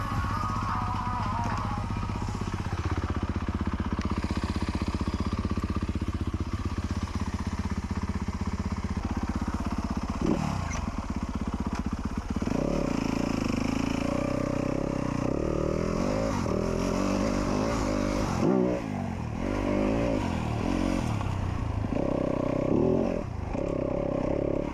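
A motorcycle with adjustable suspension clickers is ridden on a first outing. Its engine drones loud and steady, rising and falling through gear changes, and clattering, scraping chassis noises run underneath the constant motor sound.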